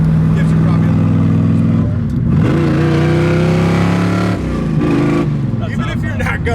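A 1976 Plymouth Duster's V8 runs loud and close with the exhaust cutouts removed. It rises in two throaty revs over a steady rumble.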